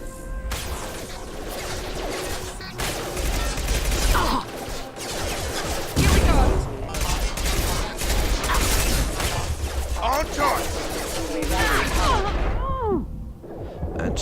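SMG gunfire in the Mass Effect 2 video game, bursts of rapid shots and impacts mixed with crashes and mechanical noise, loud and busy throughout with voices over it.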